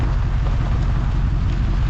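Steady rain falling outdoors near a grassy roadside ditch, a dense continuous wash of drops with low rumbling underneath, loud and unbroken with no voices.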